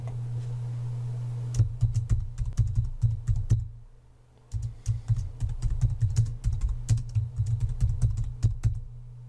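Fingers type on a computer keyboard in quick, close clicking bursts over a steady low hum, with a short pause midway before the typing resumes.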